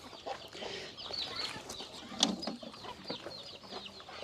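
Chickens cluck and squawk at feeding time on a Thai farm where pigs eat alongside them. Scattered calls overlap at moderate loudness against soft background noise, with one sharp squawk standing out.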